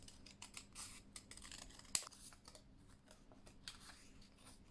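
Scissors trimming paper into a heart shape, heard as a run of quiet, close snips and rustles with one sharper cut near the middle.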